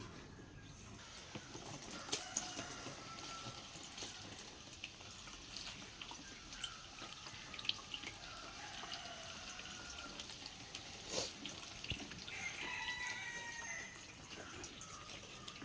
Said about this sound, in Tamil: டேப்பை ஓப்பன் பண்ணி விட்டுடலாம்.